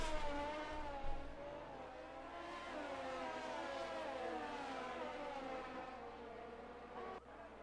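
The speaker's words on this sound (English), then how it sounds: "Tires spin. And he's going to spin again." Tires spin and squeal on a hot Formula 1 car in the F1 22 racing game at the British Grand Prix, a continuous high whining, warbling tone with engine drone running steadily for several seconds before cutting off near the end.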